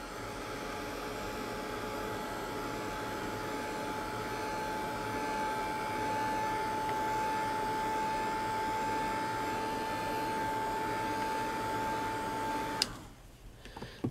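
A hair dryer blows steadily over a shabby chic mixed media craft piece, a constant broadband whoosh with a faint tonal whine that runs for about thirteen seconds before cutting off abruptly, followed by a few small clicks.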